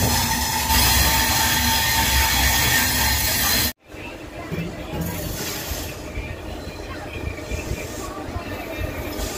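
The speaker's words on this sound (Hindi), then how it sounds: "यहाँ दिया जा चुका है ट्रेन को डिपार्चर" Rumble and clatter of the Delhi Pathankot Express pulling out of a station, loud and close with rail noise throughout, cut by a sudden brief break, then continuing steadily while someone talks.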